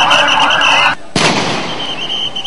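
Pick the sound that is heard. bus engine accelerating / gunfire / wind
gunfire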